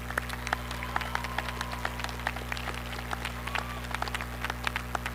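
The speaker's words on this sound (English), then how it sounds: "let's give these kids a round of applause" Audience applauding at a high school graduation ceremony, scattered distinct claps of a sparse crowd over a steady low electrical hum, moderately close.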